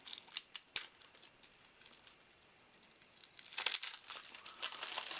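Crinkling and tearing of plastic wrap as EVE trading card deck packaging is opened, sharp snips early on, then a quiet pause before louder rustling and crinkling builds up close.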